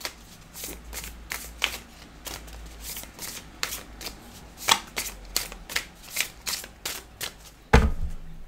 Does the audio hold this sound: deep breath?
no